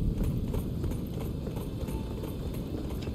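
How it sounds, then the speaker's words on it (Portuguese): A horse galloping in Elden Ring, rapid steady hoofbeats thudding continuously and close, loud and alone without talk. "Deixa eu ver se consigo chamar meu cavalo aqui."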